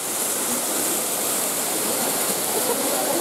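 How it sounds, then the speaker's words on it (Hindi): A steady, roaring rush of falling water, broad and constant like a waterfall close by, with no pauses or changes, at Tilkeshwar Mahadev temple. "ये जो नीचे पानी गिरता हुआ दिख रहा है ना"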